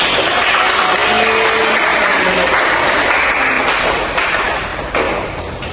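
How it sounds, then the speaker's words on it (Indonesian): Clapping from a classroom audience during a peer-teaching Islamic education lesson, steady dense applause filling the room for several seconds before tapering off slightly near the end. "beri aplaus kepada kita semua yang berperan aktif"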